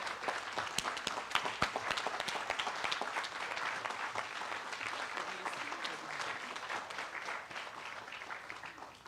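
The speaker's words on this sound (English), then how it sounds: "If we can all just stand and give them a round of applause." A standing audience at a United States citizenship ceremony applauds steadily for about nine seconds, a fairly soft, even wash of many hands clapping with a few sharper nearby claps.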